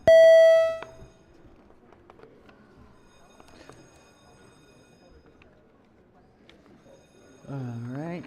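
Senate chamber bells ring, opening with a loud bright electronic bell tone that sustains for about a second and then fades. A quiet room follows, with a voice coming in near the end.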